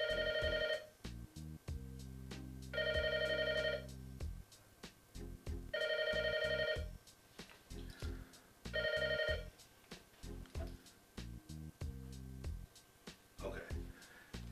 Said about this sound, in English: Let that phone ring that fucking long.